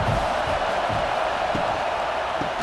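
Stadium crowd noise from the College Football 26 video game during a third-down red zone play in a New Mexico vs Michigan simulation: a steady, dense roar of massed fans that holds constant throughout, with faint low thumps underneath.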